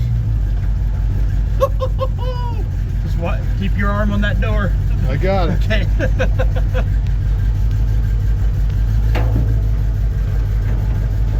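A 1954 Chevy 3100 pickup truck runs on its first drive with a steady, close engine rumble, while several people talk over it throughout.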